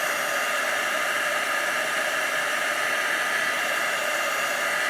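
A heat tool blows steadily over a watercolour card background to heat-set it, a constant, close, whooshing fan-and-air roar that holds even for the whole stretch with no talking.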